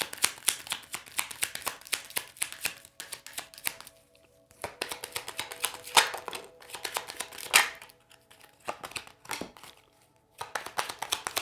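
Kipper oracle cards are shuffled by hand in rapid bursts of crisp riffling and slapping, with a few short pauses between runs, close and fairly quiet, with no talking.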